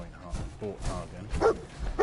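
A dog companion barking in the Fallout 4 video game, a few short barks and yips close by, with a person talking over them.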